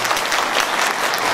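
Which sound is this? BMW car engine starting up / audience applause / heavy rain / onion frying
audience applause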